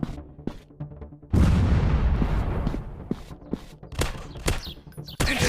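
Rapid shooter-game gunfire and explosions from a Counter Terrorist FPS: a loud sustained booming burst followed by a string of sharp, separated shots and pops, fairly close and dense, with no talking.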